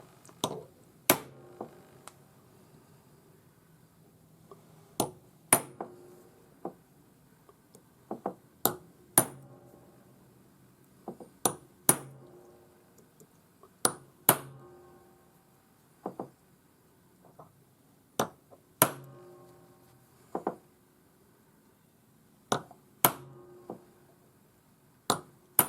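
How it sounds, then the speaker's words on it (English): A steel chasing hammer strikes a silver ring while an early Navajo-style adjustable ring is stamped, giving sharp, bright metallic taps at an uneven pace, sometimes doubled, each ringing briefly against quiet. "I'm using a chasing hammer."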